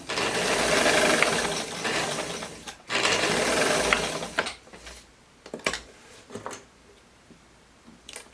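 A sewing machine backstitches a short seam at the armhole of a romper, running loudly in two continuous bursts before stopping, followed by softer clicks and mechanical handling sounds.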